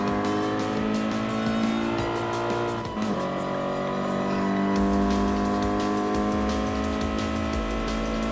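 Toyota 86 GT race car in Gran Turismo Sport, its engine droning steadily and loudly on a long straight, with a brief dip near the middle before the pitch settles and holds, accompanied by tyre noise.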